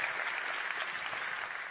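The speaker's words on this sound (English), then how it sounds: "Please give them a round of applause." A conference audience at Postback16 breaks into steady, dense applause, a sustained even wash of many hands clapping at moderate loudness with no voices over it.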